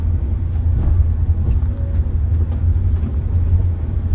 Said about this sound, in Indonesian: ini masih ada truk di sana